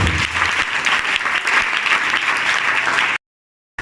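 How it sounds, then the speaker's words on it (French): A church congregation claps and cheers in loud, dense, continuous applause to acclaim the Lord, filling the space steadily before cutting off abruptly. "Est-ce que tu peux acclamer le Seigneur de l'Éternel?"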